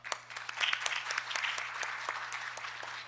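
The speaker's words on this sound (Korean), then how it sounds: "발표해 주신 모든 패널 분들께 다시 한번 큰 박수를 부탁드립니다." An audience at an international patent court conference applauds the session panelists, steady and moderately distant, with sharper individual claps standing out and a faint low hum underneath.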